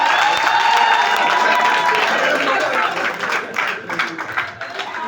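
Loud applause and cheering at a wedding ceremony at a town hall in Libreville, dense clapping with a crowd murmur and some voices mixed in, tapering into scattered claps toward the end.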